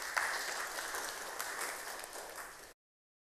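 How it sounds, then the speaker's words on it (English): An audience at a religious gathering on the Holy Spirit gives a soft round of applause. The faint, distant clapping runs for under three seconds and then cuts off to silence. "Give her a round of applause"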